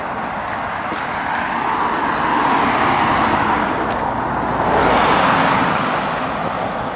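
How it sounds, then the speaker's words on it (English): A car rolls along the bumpy, patched and potholed surface of Church Lane near a motorway bridge in Worcester, its steady road rumble swelling louder twice. "when you're driving along in your car here, this is really bumpy."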